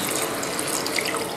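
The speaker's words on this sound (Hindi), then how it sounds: "तकरीबन इसमें 1 लीटर से ज़्यादा पानी डाल दें।" Water running steadily into a cooking pot while preparing beef rice for Eid, a continuous close splashing stream with no talk.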